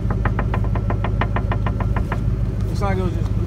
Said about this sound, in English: You don't hear that knocking? Not knocking, but like a rattle.